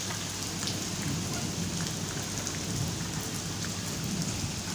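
Steady cold rain pours down in a courtyard with children playing, a dense continuous hiss of drops on surfaces with no pauses.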